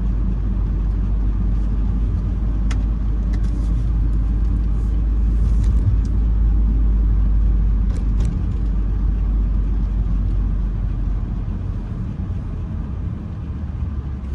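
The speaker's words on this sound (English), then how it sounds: "Vehicles coming towards us. I have to wait until those vehicles pass so I can pass that lane." Vehicles pass on a city street in Fayetteville, North Carolina, heard from inside a moving car as a continuous loud low road rumble and engine drone with little variation.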